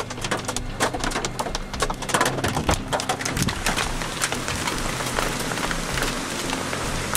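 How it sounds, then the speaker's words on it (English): Hail patters densely on a tent and car on a sunny day, a steady, fairly soft crackling clatter of many small impacts that continues without a break. "it's hailing and it's sunny out"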